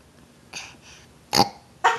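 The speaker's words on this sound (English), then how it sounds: "Make yourself burp." A child makes a few short burps, one faint then two louder, close and alone over a quiet background.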